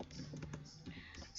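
Quick keyboard typing on a computer as a search term is entered, a short run of light clicking keystrokes close by under faint background noise.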